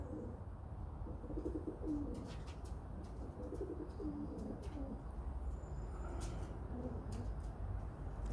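Pigeons coo softly in repeated low phrases in a loft in Radom, Poland, with occasional faint chirps and a constant background hum.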